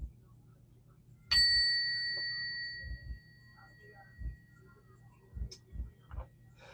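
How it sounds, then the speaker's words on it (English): A single sound bell is struck once, ringing out clear and bright and slowly fading over several seconds, during a space-cleansing ritual, with low murmurs and soft handling noises around it. "We're gonna ring the sound bell, okay, just to get started here."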